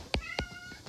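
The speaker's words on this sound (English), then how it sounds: "I'm so sorry about my cat." A cat meows twice in quick succession, fairly loud and close, with a fainter third call trailing off at the end, in an otherwise quiet indoor room.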